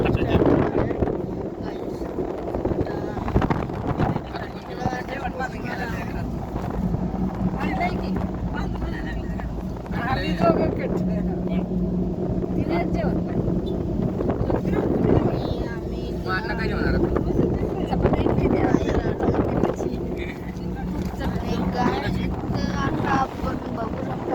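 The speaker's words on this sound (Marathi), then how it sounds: "वारा आला आहे." Strong wind near hills with wind turbines buffets the microphone in a continuous outdoor roar, with people talking through much of it.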